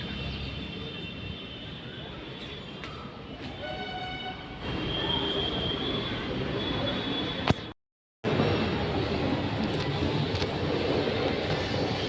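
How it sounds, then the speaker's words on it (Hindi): A metro train rumbles through a station, a broad steady roar with hissing and faint squealing tones that swells midway, briefly cuts out, then resumes just as loud. "अभी अभी मेट्रो गया है"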